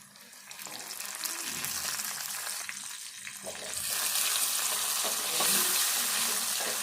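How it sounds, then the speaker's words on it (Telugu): Onion frying in a pan with cumin, mustard seeds, turmeric and curry leaves, a steady close sizzle that grows louder and brighter partway through, with faint stirring scrapes and no talk. "ఉల్లిపాయ వేగదాకా వేపుకుందాము"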